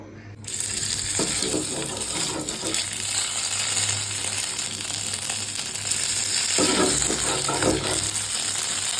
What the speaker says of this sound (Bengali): এটা এখন তেলে ভাজবো হালকা করে।